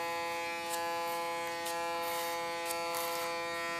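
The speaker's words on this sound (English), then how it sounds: "Minor adjustments I make with clipper over comb technique" Electric hair clipper buzzing steadily through very short hair, worked over a comb, with a constant harmonic hum and faint scratchy clicks as the comb passes, close and even throughout.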